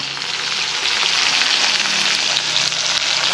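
Tomato and salt hit browned onion in hot oil for a jackfruit gravy, producing a loud, dense, continuous sizzle that stays close and even throughout.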